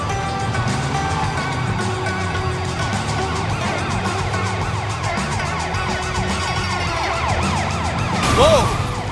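Wailing police car siren from the video game Sleeping Dogs, sweeping up and down continuously over a low rumbling engine and game ambience, growing loudest near the end.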